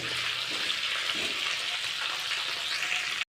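Tomatoes fry in a pan for ridge gourd chutney with a steady, loud, hissing sizzle that holds close and unbroken, then cuts off abruptly.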